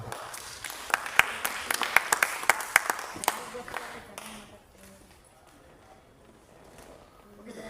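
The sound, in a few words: audience applause at felicitation ceremony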